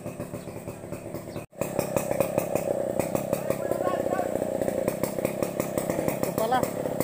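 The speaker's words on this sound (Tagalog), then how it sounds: "Andar na yung chinsaw, naririnig nyo." A chainsaw runs steadily, with a brief cutout near the start, while cutting firewood for a wedding behind a house. The engine holds a loud, continuous drone with rhythmic pulses and faint voices in the background.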